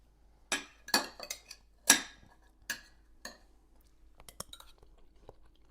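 A metal spoon clinks and scrapes against a dish while scooping a cooked artichoke heart, several sharp close chinks in the first half followed by softer, smaller taps; no speech.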